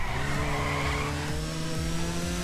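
A car driving in GTA Online, its steady engine drone holding a constant pitch with tire squeal and skidding layered on top, loud and close for a few seconds with no talk.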